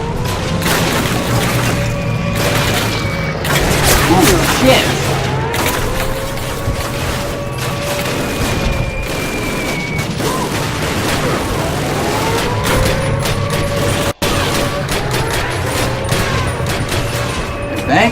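Sustained battlefield din from a Call of Duty 1 mission: rolling booms, rapid gunfire and wailing sirens stay loud throughout, with shouted voices in the mix.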